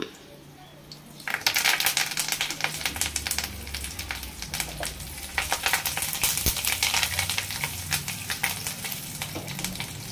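A dried red chilli, tempering spices and curry leaves dropped into hot oil for a chilli chutney, bursting into a loud, dense crackling sizzle after a quiet start and spitting steadily close up.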